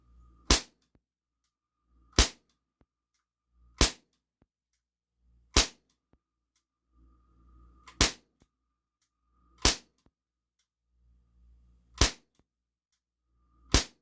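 An Umarex XCP 4.5mm CO2 air pistol fires a series of sharp, loud cracks, each alone and evenly spaced about every one and a half seconds, with faint handling sounds between shots.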